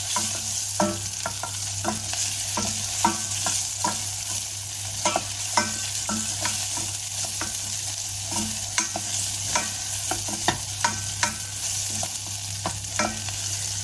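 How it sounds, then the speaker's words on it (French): Onion, garlic and bell pepper fry in a pan with a steady, loud sizzle, while a utensil scrapes and stirs in irregular clicks and knocks throughout, with no voices. "Oignon, ail, poivron, vous faites cuire un petit peu tout ça."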